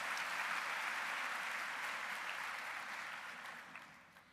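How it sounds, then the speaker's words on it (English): A seated audience of students and their parents claps at a university orientation welcome. The applause is steady and fills the hall at first, then thins and fades toward the end. "Let's applaud your parents."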